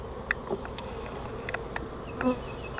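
Honeybees buzzing around an open hive during an inspection, a close, continuous hum with individual bees droning past the microphone in brief louder swells.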